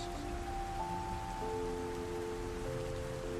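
Steady rain falls throughout, an even and dense hiss with a soft sustained tonal hum underneath, evenly loud with no talk.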